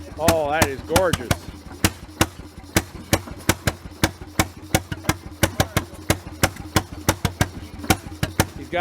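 An antique 8 horsepower Bessemer gas engine runs steadily at a crank-up show, firing in a loud, regular chugging beat of sharp exhaust pops. Voices talk briefly over it near the start.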